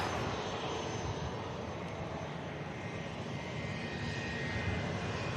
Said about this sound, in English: The beautiful black scheme on the Learjet 75 is inbound as well.